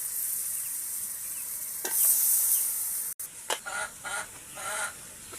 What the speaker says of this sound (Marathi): आता मटण टाकले आपण, चांगलं मिक्स करून घेऊ